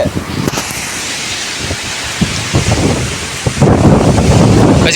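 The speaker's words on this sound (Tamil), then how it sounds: "காற்று எப்படி அடிக்குது பாரு" Strong gusting wind and heavy rain roar together outdoors, buffeting the microphone in a dense, loud wash that swells louder near the end, with no one talking.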